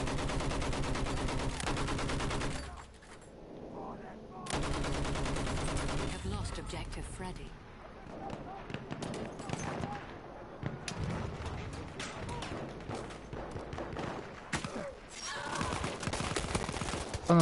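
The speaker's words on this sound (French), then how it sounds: "c'est trop cheaté la mitrailleuse" Sustained machine gun fire in the Battlefield 1 open beta, loud and continuous with short lulls, blended with other battlefield noise and someone talking in French.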